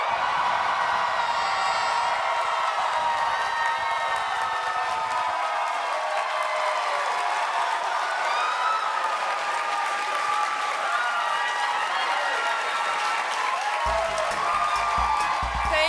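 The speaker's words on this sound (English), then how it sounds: "When I say 3, you better cheer" A convention crowd at a Game of Thrones panel bursts into loud sustained cheering, whooping and applause, a dense roar of clapping filling the room for many seconds.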